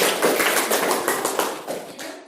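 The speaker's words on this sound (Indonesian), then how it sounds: "Kita beri tepuk tangan untuk kelompok atau penampil terakhir" An audience claps for the last presenting group at a teaching performance exam, a short burst of dense, rhythmic applause that fades out toward the end.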